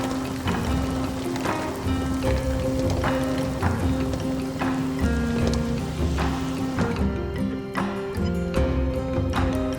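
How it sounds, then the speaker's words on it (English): Rain from a thunderstorm near Hillsboro falls steadily and heavily, drumming on a surface nearby with a dense, continuous patter and scattered louder drops, and no voices. "Can't really see anything, but I can hear the rain."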